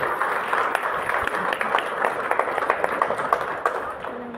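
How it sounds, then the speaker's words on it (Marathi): Audience clapping at an anniversary awards ceremony, a steady patter of many hands held at moderate level across the whole stretch, with faint crowd noise underneath. "सर्वांनी एकदा विजय दनाने व त्यांच्या टीमसाठी जोरदार टाळ्या वाजवा"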